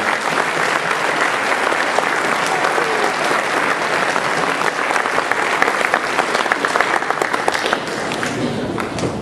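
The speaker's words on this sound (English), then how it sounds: "let's give a round of applause for every teacher and school staff member" Sustained, dense applause from a large audience at a grade 9 graduation ceremony, loud and even for the full stretch with a few cheers mixed in.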